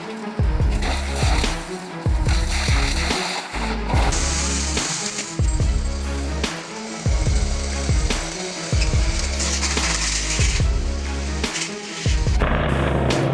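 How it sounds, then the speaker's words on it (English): An industrial wood shredder grinds logs and pallets into chips. The loud, continuous mechanical roar carries repeated heavy thuds and cracks as pieces hit the cutters, and no one speaks. "The unstoppable power of the industrial wood shredder, a mechanical beast that turns logs and pallets into a torrent of wood chips in seconds."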